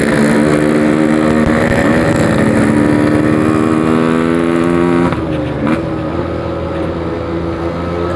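Motorcycle engine pulling hard on a group anniversary ride, a loud close steady drone with harmonic pitch climbing as it accelerates, dipping briefly around a gear change and then rising again, with no talking.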